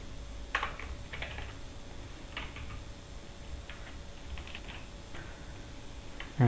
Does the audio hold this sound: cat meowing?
no